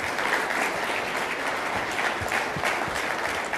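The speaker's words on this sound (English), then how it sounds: "Please join me with an applause." Audience applause at a business talk as a Lotus F1 team executive is introduced, an even, sustained clapping from a crowd across the whole stretch.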